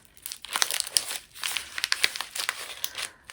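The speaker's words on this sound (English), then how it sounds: "Okay, I have one right here, and I'm gonna unwrap it." Wrapping paper around a Christmas gift crinkles and tears as it is unwrapped, with a steady run of close, crisp rustling bursts and no talking.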